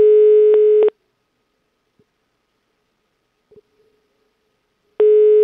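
Telephone busy tone after a call is hung up, a loud steady beep at the start, then near silence with a faint click, then the tone returning at the end.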